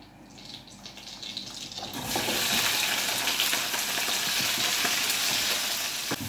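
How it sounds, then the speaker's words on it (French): Leeks hit butter and oil in a casserole pot and burst into a loud, steady sizzle after a quieter start, frying on continuously without speech. "dans une cocotte, j'ai mis un peu de beurre et un peu d'huile et je vais faire revenir mes poireaux"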